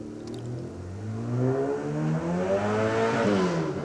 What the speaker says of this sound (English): Sean Stinger's bright blue Ford Escort there now.